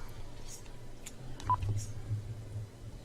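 A telephone keypad sends short dialing beeps down the line during a prank call to a live show, faint and scattered over low background hum with some voices.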